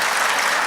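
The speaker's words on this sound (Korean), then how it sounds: "박수 감사합니다." Brief burst of congregational clapping at a Korean church revival meeting in Canada, a dense steady wash of hands filling the short moment with no voices over it.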